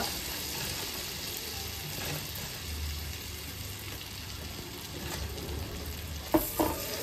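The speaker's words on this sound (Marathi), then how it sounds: "आणि जरा चांगलं हलवायचं." Flour mixture stirred in a hot pan while making nachos, a soft continuous sizzle with gentle scraping, close and steady, ending with a couple of brief louder knocks.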